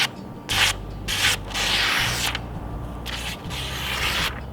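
A Mora Companion stainless steel knife blade shaving arm hair, a series of short, soft, scratchy strokes at close range, repeated in quick bursts with no talking.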